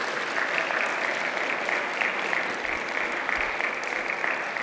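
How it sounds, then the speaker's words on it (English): An audience applauds the English department admin at a 2021 Chapman MFA poetry reading. The clapping is dense, steady and sustained from start to finish, with no voices over it. "If you could give her a round of applause"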